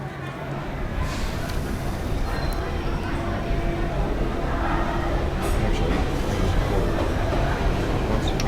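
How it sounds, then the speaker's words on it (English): A light-rail train on a Denver line pulls away from a station platform, a continuous low rumble and rolling rail noise that builds gradually and stays close and fairly loud throughout, with no talk. "This train is leaving the station."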